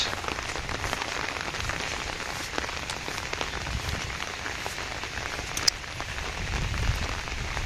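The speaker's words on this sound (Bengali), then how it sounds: "ভালো লাগে না এত বৃষ্টি" Steady heavy rain pours onto surfaces in a village during stormy weather, a dense continuous hiss with scattered louder drops, alone with no voices.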